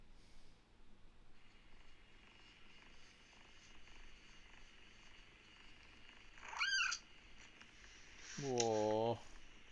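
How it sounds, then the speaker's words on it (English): A cat purrs softly and steadily close by, with faint sniffs and two short louder vocal bursts near the end. "It's a cat called Cigarette"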